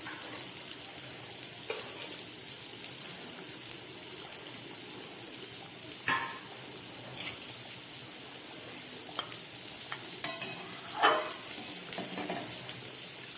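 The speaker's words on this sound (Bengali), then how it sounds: "মাছের ঝোলটা এখন ফুটছে" A rohu fish curry with potato and fried bori boils in a pot, a steady close bubbling hiss with a few soft clicks and stirring knocks, no talk.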